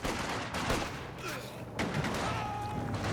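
Light machine gun fire from the Company of Heroes 2 strategy game, dense overlapping bursts of gunfire mixed with other battlefield shots in a steady, loud wartime din with no speech.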